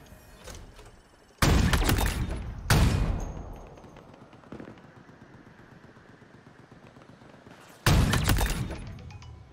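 Sniper rifle shots in Halo Infinite multiplayer: three loud, sharp blasts with ringing tails spaced across the stretch, plus a fainter fourth report, over a steady low game ambience with no talking.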